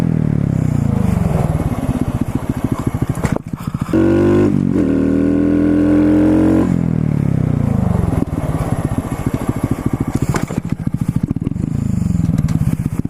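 A motorcycle engine revs and accelerates close by, its pitch climbing and dropping through repeated throttle surges for a stoppie, loud and continuous with brief shifts in tone.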